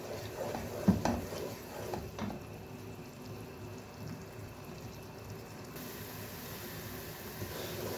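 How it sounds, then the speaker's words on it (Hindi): Onion paste frying in a pan while being stirred, a steady soft sizzle with a few faint scrapes and one light knock near the start, quiet and continuous with no voices. "प्याज के पेस्ट को हम अच्छे से फ्राई करेंगे"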